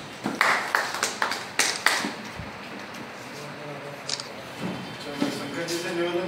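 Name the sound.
audience applause welcoming a teacher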